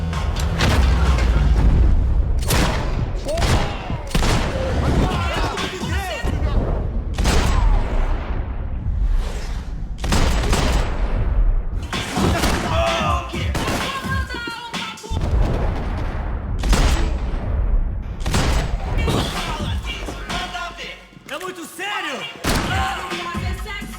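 Gunfire and heavy booms in Max Payne 3, with repeated loud shots and thuds in irregular bursts over a dense game soundtrack, speech-like voices occasionally mixed in.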